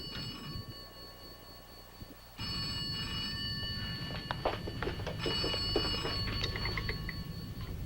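An old telephone bell rings with a bright metallic trill, starting suddenly and continuing in bursts over faint background noise.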